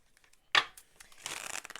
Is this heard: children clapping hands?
no